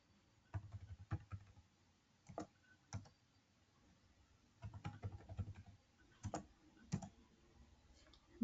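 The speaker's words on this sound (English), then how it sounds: "I'm just typing one fake account number and fake IFSC code." Someone types on a computer keyboard in scattered bursts of sharp, close clicks separated by quiet pauses, with no speech.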